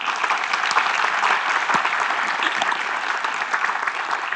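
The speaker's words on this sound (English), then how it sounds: "would you mind giving her a clap?" An indoor audience at a business talk claps together in steady, dense applause that stays at an even level from start to finish.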